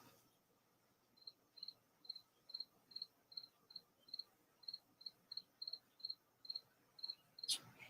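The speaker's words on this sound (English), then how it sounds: "I hear a cricket." A lone cricket chirps in a steady, evenly spaced series of short high trills, quiet and somewhat distant against a faint background hiss, with a brief sharp click at the very end.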